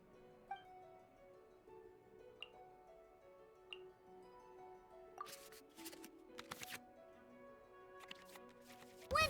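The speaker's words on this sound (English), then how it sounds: "we can select any number of cards in our hand to shuffle back into the draw pile, and then draw the same number of new cards" Digital card-shuffling effects from Genius Invokation TCG, the Genshin Impact card game, as cards return to the draw pile: a quick run of soft clicks and flicks in the latter half, over gentle game music with chimes.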